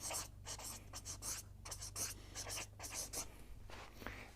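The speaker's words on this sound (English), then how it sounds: "I'm going to write pleaded." A pen writes a word on paper, giving close, scratchy bursts of short strokes in an uneven rhythm with tiny pauses between letters, and no talking.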